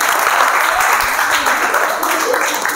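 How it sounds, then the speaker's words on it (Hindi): Students clapping together in a classroom during a student development session, a steady dense patter of applause that fills the whole moment with some voices mixed in. "तालियां होनी चाहिए"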